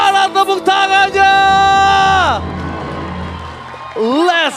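An esports arena crowd at an MPL Indonesia match cheers and claps in a loud, roaring swell, with excited commentator voices and musical tones layered over the noise.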